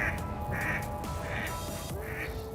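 Several ducks quack in a steady, repeating pattern, moderately near, over a low background hum.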